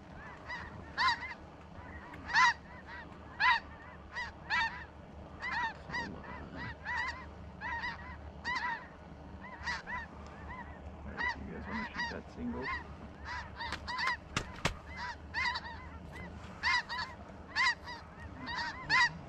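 Snow geese honk repeatedly in loud, overlapping bursts during a hunt, a steady chorus of calls rising and falling across the whole stretch with a sharp crack near the middle.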